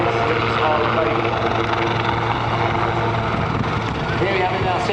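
A Royal Navy Black Cats Lynx helicopter at a seaside air day gives a steady, loud rotor and engine roar that continues throughout with no break, while a voice talks over it.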